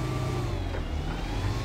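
Ford truck engine in Mudrunner revving with a steady, throaty mid-pitched drone, loud and continuous throughout, with no talk over it.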